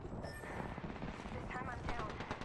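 Apex Legends gunfire crackles in dense, rapid bursts during a match, a busy layered barrage at moderate level with a voice speaking over it.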